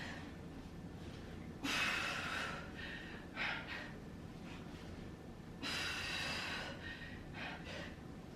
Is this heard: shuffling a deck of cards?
no